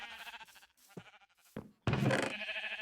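A few short, wavering bleats of sheep from a video game, with clicky thuds between them and a louder, fuller bleat near the end.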